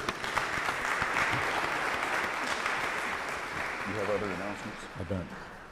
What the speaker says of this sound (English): Y'all can keep on applauding if you want to.